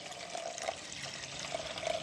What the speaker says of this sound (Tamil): கழுவி எடுத்த பயிருக்கு அளவாக தண்ணி விட்டுக்கொள்ளுவேன்.